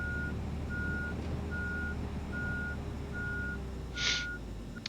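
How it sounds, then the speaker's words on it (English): A truck's backup alarm beeps steadily at a gold mining site with a mini trommel, six evenly spaced tones over a constant engine rumble, with a brief hiss near the end. "I don't know about the backup alarm."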